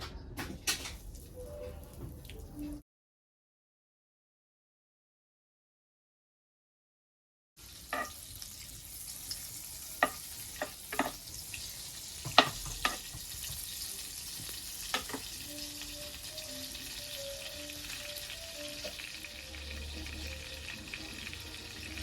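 Butter melting into hot oil in a pan for homemade pasta sizzles steadily, with a gap of silence early on, then a constant frying hiss broken by sharp clicks and taps of a spoon.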